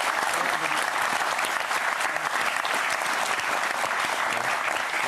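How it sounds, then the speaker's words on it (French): Studio audience on a French TV talk show applauding an arriving guest, steady dense clapping filling the whole stretch at full volume with no pauses. "Je vous demande qu'on l'applaudisse"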